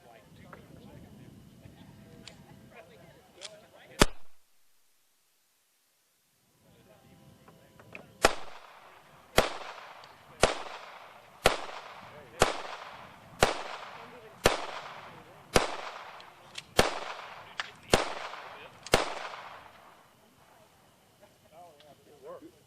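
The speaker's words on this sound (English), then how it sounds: "Good shooting, Joe." Guns fire at an outdoor shooting event, with a single loud shot, a pause, then a steady run of about eleven sharp, evenly spaced reports at close range. Voices talk in the background before the volley.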